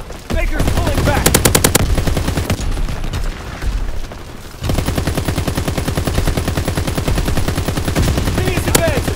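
Sustained machine gun fire in the World War II shooter Call of Duty WWII, loud, rapid bursts running almost throughout with booming gunfire and battle noise, and a brief lull partway through.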